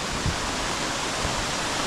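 Heavy rain pours down steadily in a dense, even roar that continues unbroken throughout, with no voices heard.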